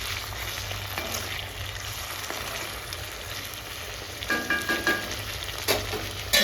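Tomatoes fry in a pan for a red chilli roti chutney, a soft continuous sizzle broken by several close scraping stirs of a spoon near the end, with no talk.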